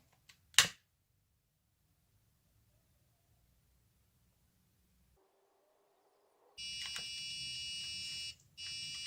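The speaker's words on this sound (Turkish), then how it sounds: "Evet arkadaşlar sensörümüz ötmeye başladı." A sharp click, then a quiet pause before a heat and humidity sensor's loud, steady high-pitched electronic buzzer alarm sounds continuously, briefly cutting out once before resuming.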